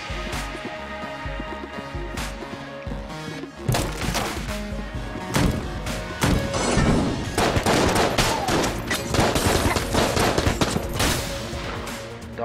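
Heavy gunfire during an Enter the Gungeon boss fight, with many rapid shots and bursts layered over background game music, growing denser and louder in the second half.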